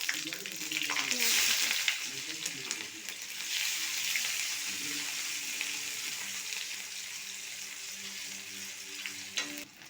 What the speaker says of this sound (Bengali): আমি এরপরে দিচ্ছি একটু গোটা জিরা, শুকনো লঙ্কা, তেজপাতা, কাঁচা লঙ্কা, পেঁয়াজ।